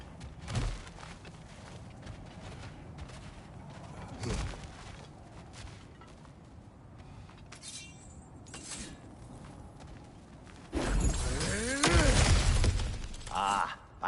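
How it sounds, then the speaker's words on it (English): Objects shatter and break apart in a God of War video game, with scattered crashes, clatters and footsteps, then a louder burst of smashing and debris near the end, alongside low game ambience. "smashing through things for fun and profit."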